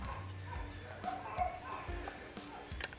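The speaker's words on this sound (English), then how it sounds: "Sorry about the dogs." Dogs bark and yip in short, loud bursts nearby in an outdoor setting while someone talks over them, with a few whimpering calls in between.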